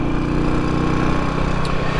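A 1981 Yamaha SR500 single-cylinder four-stroke motorcycle fitted with a SuperTrap exhaust runs steadily, its deep pulsing thump continuous, close and loud throughout with no talk.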